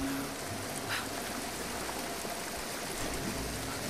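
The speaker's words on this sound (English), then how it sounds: "Nice waterfall." Rushing waterfall in the video game Rise of the Tomb Raider, a steady broadband roar of falling water running unbroken and fairly loud throughout, with no talk over it.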